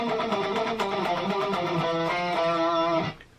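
Electric guitar plays a fast alternate-picked diatonic run, a steady stream of even picked notes that rings out loud and alone before stopping abruptly.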